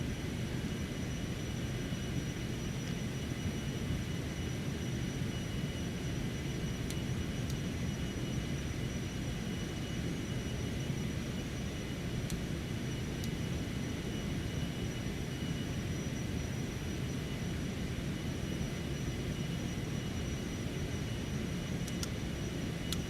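Jet engines of a Cessna Citation X at climb thrust in a flight simulator game give a steady, dense broadband roar, unchanging and loud throughout, with no speech.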